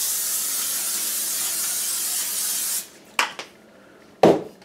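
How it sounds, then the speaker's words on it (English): Vegetable oil sprayed from a can onto an 18 by 12 inch sheet of parchment on a kitchen counter for no-knead bread: one long steady hiss for nearly three seconds, then a few short clicks and taps. "we're gonna lightly spray it with vegetable oil"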